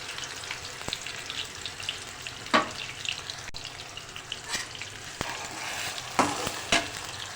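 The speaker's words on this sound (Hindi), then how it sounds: "अच्छा, अब ये देखें ये फ्राई हो रही है प्याज" Ground fried onion paste sizzles in a pan for a potato-and-egg curry, a steady frying hiss broken by several sharp spoon clinks and stirring scrapes close by.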